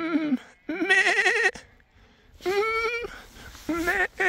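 A young goat kid bleats repeatedly at close range, with three or four loud, wavering cries separated by short gaps, outdoors in the evening.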